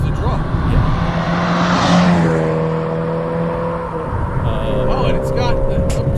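A modified 1992 Nissan Sentra SE-R engine revs hard while driving, the pitch climbing and dropping through the gears, loud and close inside the car with a voice talking briefly over it.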